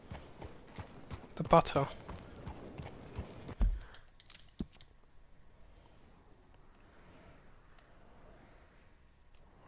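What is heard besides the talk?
horse hooves in a video game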